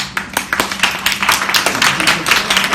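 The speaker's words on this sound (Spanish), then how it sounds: "un fuerte aplauso y empezamos" Brisk clapping from a small audience at a Christmas literary event, a steady burst of hand claps close by that carries through the short moment without talk.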